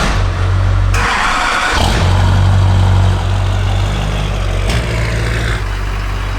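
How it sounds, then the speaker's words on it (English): A truck engine runs loud and steady with a deep low rumble, shifting pitch a few times as it revs and settles into an idle. "We can officially start this thing up, and we'll take it out on the road."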